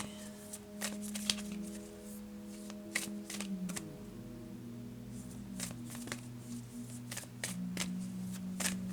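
Playing cards are riffled and shuffled in repeated crisp bursts of rapid flicking, close up, over a low sustained background tone.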